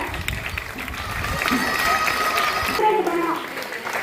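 Crowd applause at a St. Joseph's school Christmas celebration in Kanchipuram: a dense, sustained wash of clapping that holds loud for several seconds, with voices mixed in.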